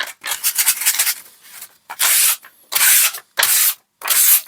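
Sandpaper rubs across the back of a tabletop dungeon-terrain build piece, first in a stretch of quick scratchy strokes, then in four long, loud, evenly spaced passes with short pauses between them, close up and with no talking.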